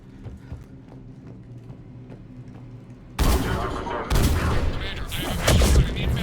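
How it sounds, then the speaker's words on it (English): Cannon fire in the Mass Effect video game: after a stretch of quiet, rhythmic thuds, heavy booming blasts erupt abruptly and continue loudly, layered with dense, crackling battle noise. "The cannon fire is clearing the way."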